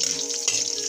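Onion and garlic, with ginger, sauté in a pan, giving a brief, fairly loud, wet sizzle with small sputtering bursts and no voices.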